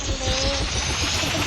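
Steady whirring rotor and engine drone of a helicopter in the Roblox game Barry's Prison, loud and constant throughout a short stretch.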